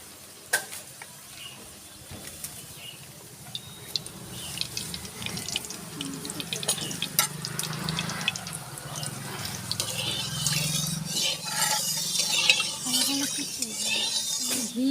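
White oil and ghee poured into a hot pan: a faint, steady sizzle and crackle that slowly builds, with scattered clicks and clatter from the pan throughout.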